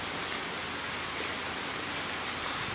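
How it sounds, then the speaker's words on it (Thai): Heavy rain pours steadily during Storm Pabuk in Satun, Thailand, a dense, continuous hiss of drops striking surfaces, loud and unbroken with no voices over it. "ฝนตกหนักแล้วนะครับตอนนี้นะครับ"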